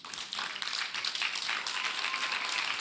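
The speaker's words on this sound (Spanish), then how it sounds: "Le damos un aplauso al Señor." A church congregation claps in applause for the Lord during a Spanish-language service, a dense, steady patter of many hands that fills the room without a voice over it.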